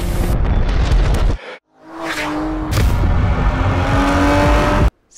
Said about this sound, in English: I'm sure the twin turbo V8 from Mercedes AMG, which is a part of this car, is going to sound beautifully well